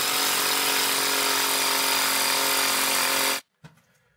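A power drill drives a lag bolt with a washer through a fiberglass shower wall to mount a grab bar, whirring steadily and loud for about three and a half seconds before cutting off abruptly, followed by a brief faint clunk.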